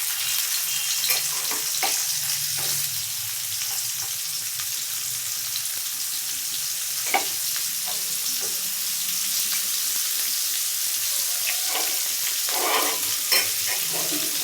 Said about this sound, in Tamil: இப்போ அதே ஆயிலேயே வெங்காயம் போட்டுக்கலாம்